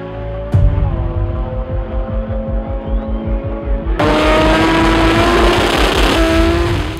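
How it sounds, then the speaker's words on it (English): Drag race cars launch down the track, including a 2JZ-powered car, with a sharp bang followed by roaring engines that rise and then jump louder as they accelerate, loud and near, under faint commentary. "El Jerry, driven by Lascano, powerful 2JZ, chases down the track with the late light and succeeds"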